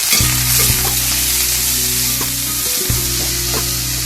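Onion sizzles in hot oil with fried curry leaves in a pan over a wood-fired stove, a constant bright hiss broken by occasional stirring scrapes and knocks, close up and without speech.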